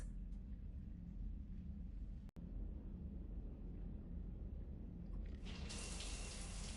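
Shower water running steadily in a PS4 video game, a constant broadband hiss that swells brighter and louder near the end, with a brief dropout partway through.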